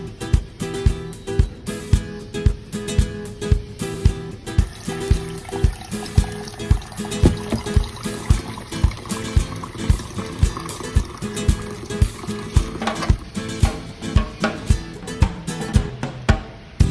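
Water mixed with bicarbonate of soda is poured into a car radiator to clear a blockage, a steady sloshing fill with a run of regular rhythmic pulses throughout, fairly close and loud, with no talk.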